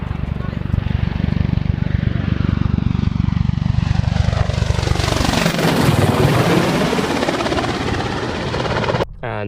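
An Apache helicopter flying from a squadron base in Suffolk, a loud, continuous rotor and engine roar with steady beating chop that swells and shifts pitch as it passes close by, ending abruptly.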